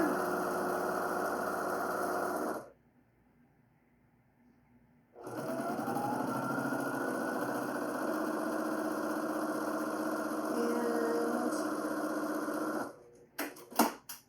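A sewing machine runs steadily while stitching quilt runner pieces for a Halloween quilt, a continuous whirring hum that stops for a few seconds, resumes for a long stretch, then ends with a few clunks.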